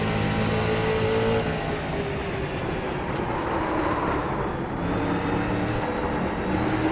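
Street stock race car engines drone continuously in the iRacing sim at Martinsville during a long green-flag run. The steady, loud mechanical roar has slight pitch shifts as cars work around the short track.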